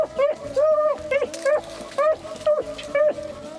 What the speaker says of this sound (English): Oh, this dog here is gonna pick it up.